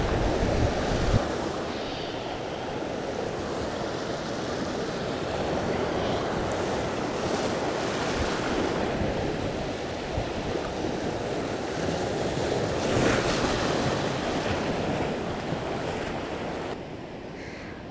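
Strong sea waves surging and breaking at Madh jetty in Mumbai, a continuous loud wash of surf with gusts of wind buffeting the microphone throughout.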